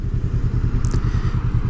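A Honda Rebel 500 motorcycle engine throbs with a low, pulsing rumble heard close while riding. A brief high chirp or squeak cuts in about halfway through.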